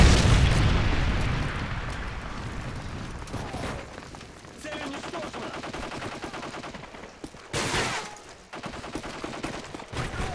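A Predator missile strike in a military video game blasts out as a heavy explosion with a long rumbling tail, followed by further booms and sharp bursts amid constant loud game noise.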